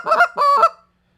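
A short reed goose call blown in two quick honking notes, loud and close, the second note longer and held before it cuts off into silence.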